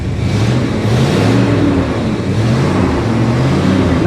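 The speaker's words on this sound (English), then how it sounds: "let's rev it up a bit" Old V8-style engine of a 1966 Ford Country Sedan station wagon revving up and down in an enclosed space, loud and continuous with rising and falling pitch over a steady rumble.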